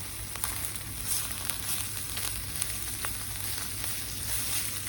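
Butter sizzles and fries steadily in a pan while cooking shaheh ghazaha, a constant close crackling hiss with small pops and no voices.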